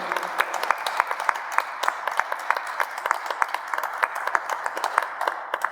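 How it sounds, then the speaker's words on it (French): A church congregation at a chrism Mass applauds its priests, a sustained, moderately loud patter of many hands with a few sharper individual claps standing out. "Je pense qu'on peut les applaudir pour leur manifester notre soutien."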